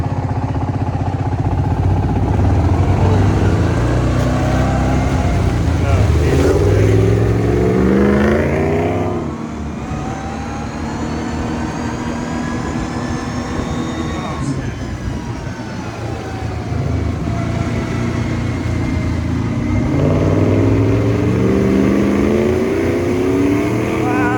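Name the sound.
Dodge Ram 1500 HEMI truck engine revving while drifting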